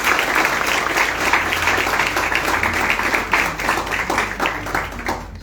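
Steady, loud audience applause for an IPS officer at a UPSC motivational talk, many hands clapping in a dense, continuous patter that eases slightly toward the end.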